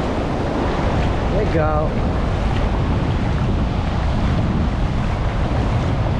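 Waves roll in at Enseada beach in Bertioga with a continuous broadband surf wash and wind noise, while a voice briefly speaks over it.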